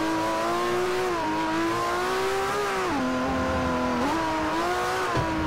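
A Ferrari 599 GTO racing engine in Forza Motorsport 4 howls steadily at high revs, its pitch dipping and climbing again with each gear shift, loud and close with no talking.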